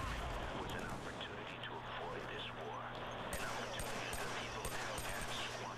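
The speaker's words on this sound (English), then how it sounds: "I love this machine pistol" Machine pistol gunfire during online warzone gameplay in Killzone 3, heard as rapid bursts of shots and distant explosions within a dense, continuous battle din, with a voice talking over it.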